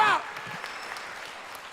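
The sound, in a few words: church congregation applauding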